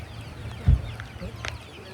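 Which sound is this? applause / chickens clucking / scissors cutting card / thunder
chickens clucking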